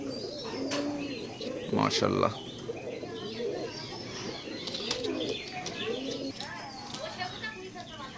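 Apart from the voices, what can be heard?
Oman blood line teddy pigeons cooing and flapping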